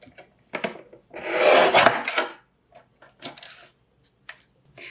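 Black cardstock being cut into inch-wide strips, giving short raspy paper-cutting strokes and one longer rough cutting pass, close and fairly quiet, with no talking.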